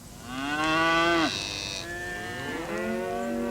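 Cows moo loudly and close by, one long drawn-out low call followed by a second, deeper moo, with no talking over them.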